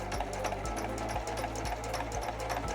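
A sewing machine stitching around the seam of a fabric zipper pouch, running steadily at close range with a loud whirring drone and rapid regular needle pulses throughout.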